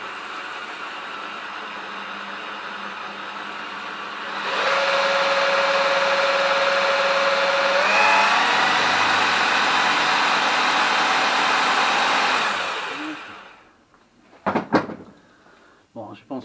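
Car engine idling steadily after an alternator rebuild, with a faint whine rising partway through, running under a French-speaking voice before cutting off, followed by a few clunks.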